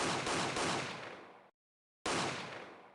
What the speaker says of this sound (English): I heard 3 gunshots and after a pause, another one.